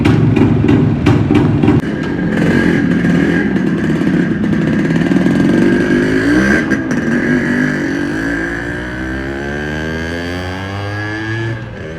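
A two-stroke Yamaha RX100 motorcycle engine close by, popping rapidly at first, then revving loudly with a buzzy rising and falling pitch, gradually easing to a steadier idle-like drone.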